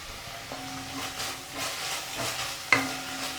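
Fenugreek leaves fry in a hot pan while being stirred, a steady sizzle and hiss broken by soft scraping strokes and one sharper clink, close and without talk.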